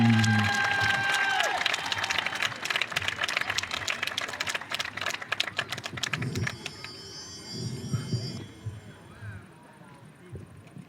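An arena audience at an international show-jumping event applauds to welcome a rider. Dense clapping runs through the first half under an announcer's voice, then thins into scattered crowd noise and softer applause.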